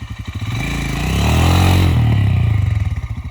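Royal Enfield Himalayan motorcycle engine pulling an off-road power turn, its throbbing single-cylinder note rising in revs, then easing back, loud and close, with no voices.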